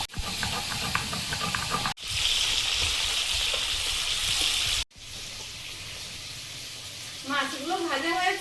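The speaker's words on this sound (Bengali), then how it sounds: "মাছগুলো ভাজা হয়েছে, তুলে নেব।" Fish frying in hot oil for a spicy Bengali fish curry, a loud continuous sizzle and hiss that breaks off abruptly twice and then resumes, with a person speaking faintly near the end.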